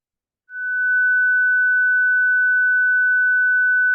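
Pure 1.5 kHz sine wave tone that switches on after half a second and holds steady and loud, a single unwavering pitch with nothing else around it.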